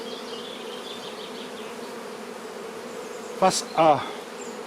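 Honeybees hum steadily from an opened hive with a super during a colony inspection, a close, continuous buzz, broken near the end by a few spoken words.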